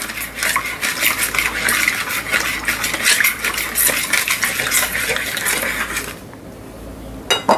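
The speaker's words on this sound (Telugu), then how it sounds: "దీన్ని కొంచెం బాగా మిక్స్ అయ్యేలా కలపండి" A spoon stirs a mixture of water, 2.5 grams of yeast and a tablespoon of sugar in a bowl for focaccia dough, a steady scraping and clinking close up with no voices.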